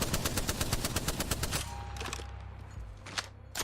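Full-auto fire with uncontrolled recoil in Apex Legends: a fast, steady stream of close, loud shots for about a second and a half, then a fading mechanical tail with a few scattered clicks.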